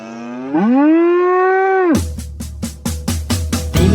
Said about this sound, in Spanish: Dime si tú sabes cómo hace la vaca.